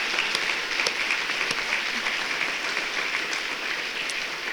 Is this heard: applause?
yes